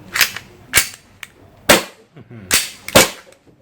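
An E&C Glock 19 Gen5 gas blowback airsoft pistol fires about five sharp, snappy shots at uneven intervals, each a crisp close crack with a quick gassy hiss, separated by quiet pauses.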